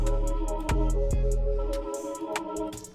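A chord progression chopped into slices in Slicer with vintage effects, sustained harmonic chords with sharp rhythmic cuts and bright transient ticks, a steady loop-like pattern that thins out halfway through.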